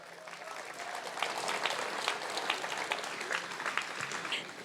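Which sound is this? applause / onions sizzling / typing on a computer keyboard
applause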